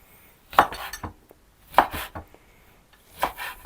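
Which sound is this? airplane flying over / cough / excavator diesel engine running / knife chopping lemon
knife chopping lemon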